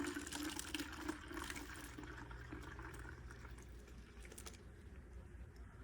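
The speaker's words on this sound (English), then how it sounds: "And then I just pour in water." Two cups of tap water pour and splash into a container, a continuous gurgling rush, close but fairly soft, tapering slightly near the end.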